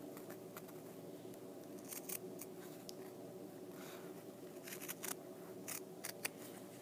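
Scissors cut around appliqué fabric, giving quiet close snips and crisp slicing strokes at an irregular pace against a soft hum.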